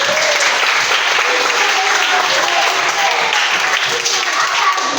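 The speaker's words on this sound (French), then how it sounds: "Applaudissez encore pour les gardiens." An audience at a school event applauds the young goalkeepers, a full steady wash of clapping with faint voices mixed in.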